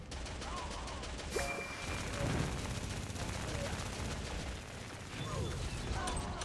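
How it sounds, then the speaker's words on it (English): Missiles launching in the strategy game Art of War: Red Tides, a dense crackling barrage of launches and blasts running continuously beneath game sounds, with a couple of louder bursts standing out. "Look at those missiles going off."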